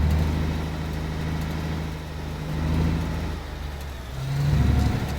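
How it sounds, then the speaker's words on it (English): A heavy truck engine idles and rumbles steadily in the Alaskan Road Truckers driving game, a low continuous drone that swells slightly a couple of times as the vehicle moves. "The truck is still running and we're moving"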